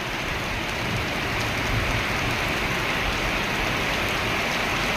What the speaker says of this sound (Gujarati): આ બાજુથી જોઈ લો તમે વરસાદ.